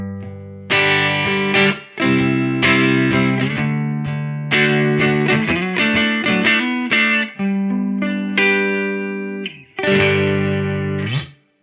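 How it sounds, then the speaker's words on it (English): Clean electric guitar played through a Surfy Bear Classic amp set fully clean, with several ringing chords struck one after another, each sustaining before the next, alone and fairly loud. "for now, we'll just start off with some clean tones"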